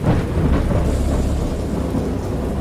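Thunder rolls through a stormy night in the video game Dagon, a loud, continuous low rumble with a steady wash of rain underneath and no voices.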